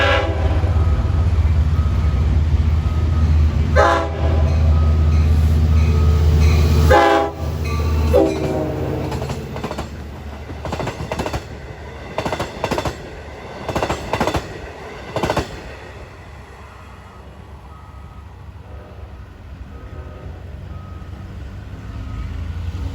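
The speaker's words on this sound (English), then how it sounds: "Eastbound at 8:33 is train 606. That's a through job from Jamaica to Port Jefferson." An eastbound through train from Jamaica to Port Jefferson passes Mineola, sounding its horn in several distinct blasts over a loud low rumble that tapers off as it moves away.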